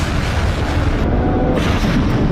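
A loud, heavy boom from a Russian attack on a Ukrainian city, dense rumbling blast noise filling the short span without any speech.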